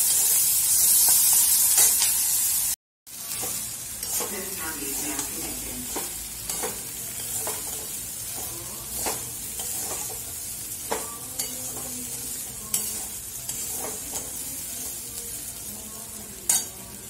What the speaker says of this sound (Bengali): এখন আমি পোয়ার জন্য ভাজছি পেঁয়াজটা